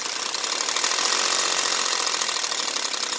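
A Honda J-series V6 engine idles with a steady, continuous metallic rattle from a loose hydraulic timing belt tensioner, loud and close with no talking.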